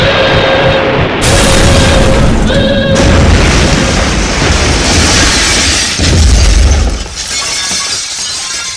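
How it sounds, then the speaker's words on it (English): A large explosion in a Doctor Who audio drama, a sustained loud roaring, crackling blast with shattering debris that rumbles on for several seconds, with brief voices buried beneath it. "That explosion must have been pretty big."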